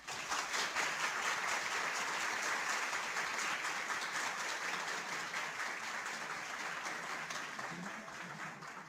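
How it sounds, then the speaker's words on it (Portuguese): Applause from an audience filling a packed university auditorium, steady and dense throughout, loud and sustained, tapering slightly toward the end without any talk over it. "eu quero que você escute os aplausos da plateia"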